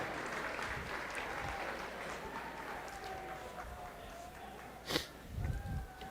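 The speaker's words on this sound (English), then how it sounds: "Give me a big round of applause." Scattered applause from an awards banquet audience, moderate and fairly distant, with a few brief louder bursts near the end and some faint background murmur.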